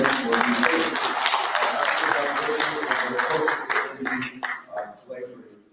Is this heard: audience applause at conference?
yes